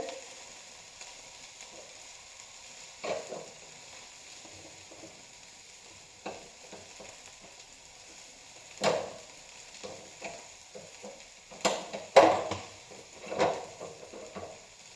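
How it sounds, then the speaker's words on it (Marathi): Okra (bhindi) frying in a pan over a high gas flame, a faint steady sizzle with occasional scraping stirs and clinks of utensil against the pan, no voices. "आपण एका बाजूला भेंडी भाजून घ्यायला सुरुवात केलेली आहे"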